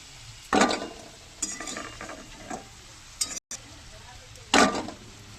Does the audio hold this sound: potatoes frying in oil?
yes